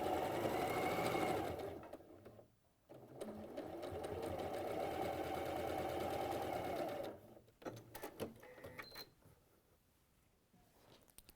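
A sewing machine stitches a seam for a Seminole sampler cushion in two sustained runs of rapid, even needle hum, close and steady, followed by a few clicks and fabric rustles as it stops.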